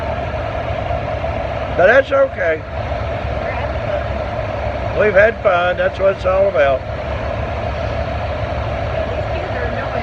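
Farm tractor pull engine at a Halls, Tennessee event, a steady droning motor held beneath a commentator's bursts of talk, sounding moderately distant throughout.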